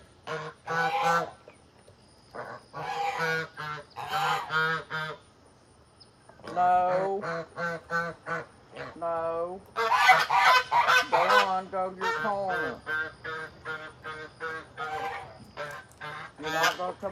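Geese honk repeatedly out back during feeding and watering, with baby chicks kept nearby; close, loud bursts of harsh calls come in quick clusters with brief pauses between them.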